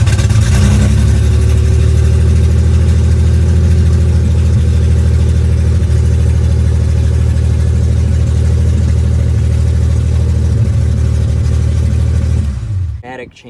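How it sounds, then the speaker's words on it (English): A modified BMW E34 535i with its engine running, a loud, deep, steady rumble close by that holds nearly constant throughout, then cuts off near the end, with a person talking briefly. "Start it up, hopefully it'll start."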